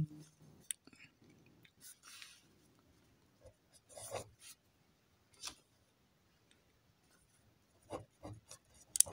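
A pen scratches across paper while a math solution is written out, in quiet, close, intermittent bursts of short strokes separated by pauses.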